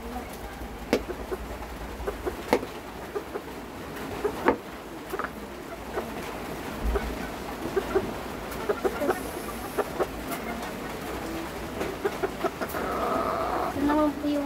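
Bantam chickens and pigeons at feeding time cluck and coo in a busy, irregular stream of short calls, with a person talking nearby throughout.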